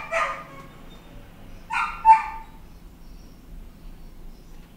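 Dogs barking at a distance, a short burst of barks at the start followed by a second cluster of two or three barks a little later, over a quiet hum of background static.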